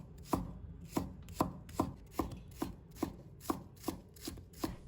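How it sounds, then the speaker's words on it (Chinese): Knife chopping scallion whites into small pieces on a cutting board, about ten evenly spaced sharp thuds in a steady rhythm, close and quiet with no talk. "把葱白切成小粒。"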